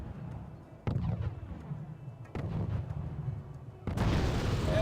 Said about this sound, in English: The artillery hitting the Rilk.